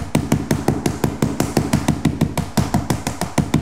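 Rapid, even hammer taps strike vinyl plank flooring as a seam is seated, roughly twenty sharp knocks in a steady rhythm, close and fairly loud.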